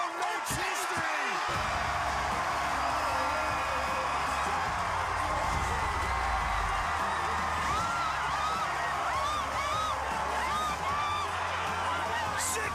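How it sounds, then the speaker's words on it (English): A crowd roars and cheers wildly at a ninja obstacle-course competition as a 16-year-old woman finishes stage two. The dense, continuous wall of noise runs the whole time beneath an excited commentator's voice. "And the crowd, look at this. They're going nuts."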